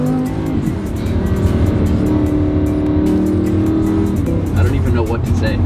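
Lamborghini Huracan engine pulling hard under acceleration, a loud, close, continuous roar that holds steady and climbs toward the end, with voices mixed in.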